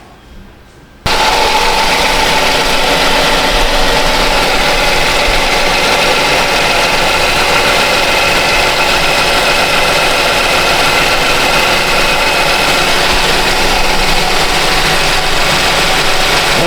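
A Kia Sedona engine, being checked for an oil leak, starts after a brief quiet moment and then idles steadily and close by for the rest of the clip, a broad constant rumble with a faint ticking, mechanical texture.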